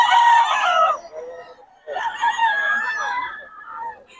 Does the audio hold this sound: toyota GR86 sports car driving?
no